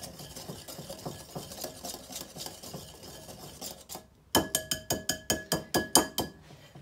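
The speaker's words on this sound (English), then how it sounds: "just whisk your dry ingredients together" Dry ingredients hand-whisked together in a bowl for cookies, quick rhythmic scraping and tapping strokes, softer at first, then a brief pause and a louder run of about a dozen sharp, evenly spaced clinks against the bowl.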